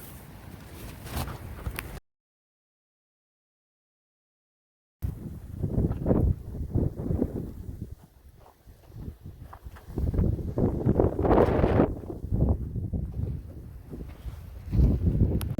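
Gusty wind on the Pacific Crest Trail between Morris Meadow and Scissors Crossing, a loud, rough, buffeting roar that surges and eases against the microphone and breaks off briefly into silence partway through.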